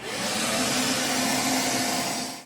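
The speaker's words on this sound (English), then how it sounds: "use a vacuum with a dusting brush attachment" Vacuum cleaner with a dusting brush attachment cleaning a PS5 CFI-1200 cooling fan, a loud steady close-up whoosh that runs continuously and then cuts off.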